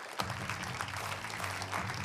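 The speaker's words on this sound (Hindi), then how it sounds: "तालियां बजाइए" Studio audience on a Hindi television news debate claps to welcome a panel guest, a short burst of dense applause over a low sustained musical tone.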